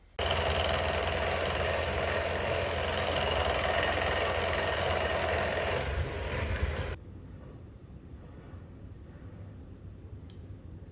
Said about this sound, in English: Get your hand mixer back out and then just mix that in till it's all totally together